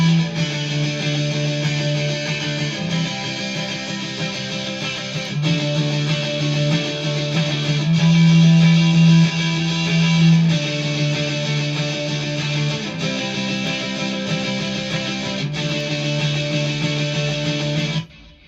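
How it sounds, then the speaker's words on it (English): A distorted electric guitar plays a sustained chorus progression, thick chords changing every few seconds, steady and loud with no voices. "All right, so this is with distortion. This is the chorus."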